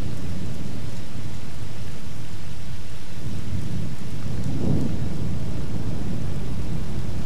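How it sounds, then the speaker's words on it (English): Loud, continuous rain with deep rolling thunder rumbling underneath, swelling in the middle before settling back into the downpour. "Then we have some thunder over the top."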